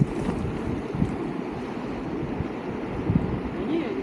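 Strong wind buffets the microphone in a steady, loud roar with gusty low rumbles throughout, on an outdoor trip along a gas pipeline toward a village in high wind.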